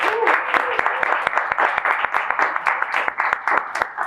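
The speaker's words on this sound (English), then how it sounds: "Let's give a huge round of applause for Peter" Applause for a speaker at a conference summit, with a smaller crowd's claps sounding close and distinct over murmuring voices, sharp individual hand claps repeating through the whole stretch.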